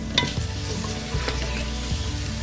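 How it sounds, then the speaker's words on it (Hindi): Chicken is stirred into a lentil curry in a hot pan, a brisk sizzle with scraping spoon strokes and a couple of soft clunks, close and without talk. "इसको मैं मिक्स करूंगी अच्छी तरह"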